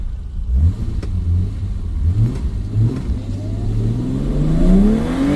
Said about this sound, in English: See, now the RPM is higher because the car is getting warmer now.